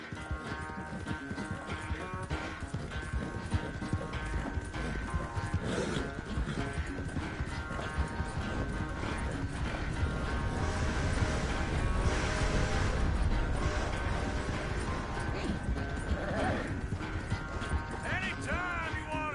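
A horse's hooves clip-clop steadily through the whole stretch in Red Dead Redemption 2, with creaking tack and soft background music under the rhythmic footfalls.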